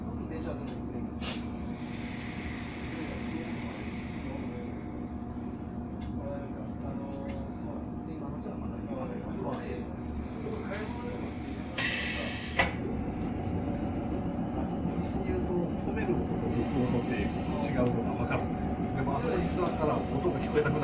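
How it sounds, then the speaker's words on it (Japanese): Inside the cab of a Kumamoto Electric Railway 5000 series train at the Kita-Kumamoto depot, the air brakes hiss as they charge and release, with one sharp, loud burst of escaping air partway through. A low mechanical hum continues underneath and people talk throughout. "エアの音が、込める音と抜く音って違うんですよね。"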